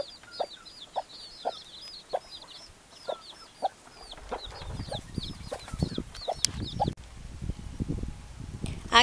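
Hens cluck in a steady series of short calls, nearby, over a quiet outdoor background that grows noisier with rustling toward the end.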